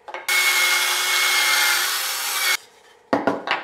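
Power drill driving a pocket screw into wood for a DIY hockey stick build, a loud, close, steady grinding whir lasting a couple of seconds, then brief short bursts as the screw seats.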